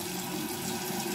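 Hot water running steadily from a bathroom tap, a continuous close hiss and splash with no break, moderately quiet.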